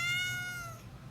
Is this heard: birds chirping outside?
no